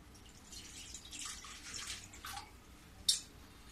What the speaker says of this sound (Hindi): अब इसमें मैं पानी डाल देती हूँ।